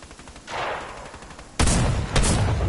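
Gunfire in a Fortnite squads match: a softer swelling shot-like burst, then two sharp, loud broadband bursts of rapid fire close by, with no talking.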